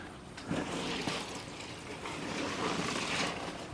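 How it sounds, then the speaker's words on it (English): Running water rinses detritus off reef aquarium sump equipment, making a soft, continuous splashing and gurgling wash that swells slightly at moments, faint and close, with no voices. "So just rinsing all that off. All the detritus."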